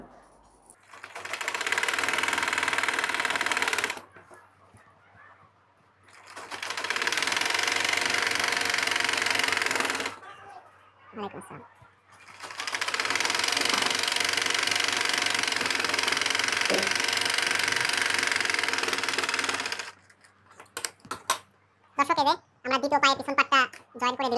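A sewing machine stitches a seam on a trouser-style pajama in three long, steady bursts of whirring, separated by short pauses, ending with a few clipped stops and starts.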